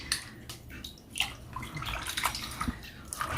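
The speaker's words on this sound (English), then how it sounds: "and drain that water off and get it ready for that skillet" Water being drained off in a home kitchen, splashing and running steadily for a few seconds at moderate volume, with small drips and gurgles, close by and without talk.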